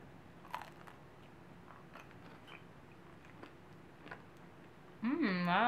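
Someone eats crunchy oatmeal cookies made with millet and chia, giving a few faint, scattered crunches and chewing clicks in a quiet room, followed by a brief voiced hum at the end.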